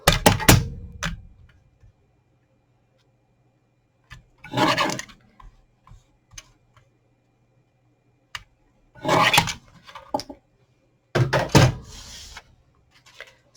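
Scissors trimming a piece of vellum paper for a St Patrick's Day craft, heard as several short, close snipping and cutting bursts separated by quiet pauses.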